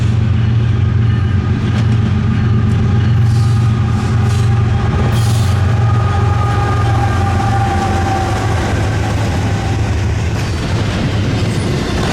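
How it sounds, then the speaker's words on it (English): A westbound Norfolk Southern freight train passes with two BNSF locomotives, a steady loud rumble of rolling cars with faint clickety-clack and occasional wheel squeal, continuous throughout with no voices. "NS 267 headed westbound with the usual duo of BNSF power, with a nice H2 trailing second"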